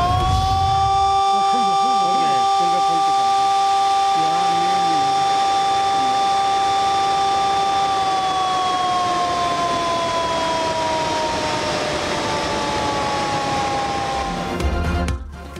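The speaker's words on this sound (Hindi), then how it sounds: "स्पिलवेज खोलने से पहले सायरन बजाए गए।" Warning siren wails at Rawal Dam in Islamabad before the spillways open during heavy rain, a loud sustained tone that slowly dips in pitch across several seconds with a faint rumble underneath.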